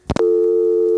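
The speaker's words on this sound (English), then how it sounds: "So when you get a dial tone, you're put on the originating register sender" A couple of quick clicks, then a steady, unbroken dial tone from an ITT Pentaconta crossbar telephone exchange in Asheboro, North Carolina, in 1977, loud and clear with no talking.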